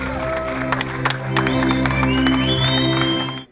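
Applause and cheering from a crowd at the opening of a new sports facility, steady and fairly loud over a bed of music, fading out at the end.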